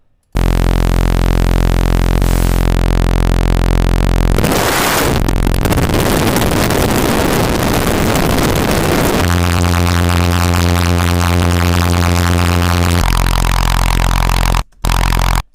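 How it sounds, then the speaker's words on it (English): Harsh FM synthesizer tones driven by noise, a dense sustained buzzing wash that shifts midway into a steadier layered drone with strong harmonic bands, loud and unbroken apart from a brief dropout near the end. "I want to do like some FM in this, FM from noise"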